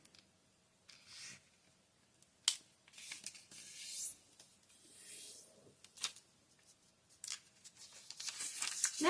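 Paper folded and creased by hand while making origami vampire lips for Halloween, with scattered crisp rustles, crinkles and sharp creasing swipes, fairly close and quiet, building toward a denser crackle at the end.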